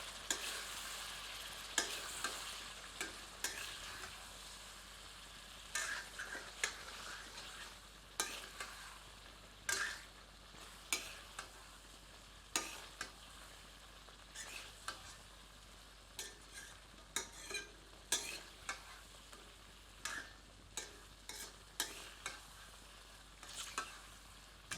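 Mutton masala with chili sizzles quietly in a pan over medium heat while a ladle stirs it, giving irregular scraping clicks and soft bursts over a low frying hiss, with no speech.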